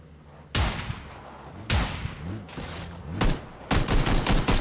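Gunfire from the video game PlayerUnknown's Battlegrounds, with loud, sharp shots cracking out at irregular intervals and a closing flurry of rapid shots over a low background hum.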